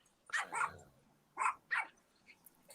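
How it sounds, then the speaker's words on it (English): A small dog barks in the background, a few sharp yaps in two short bursts, faint and distant, with no one talking over it. "That sounds like a little dog"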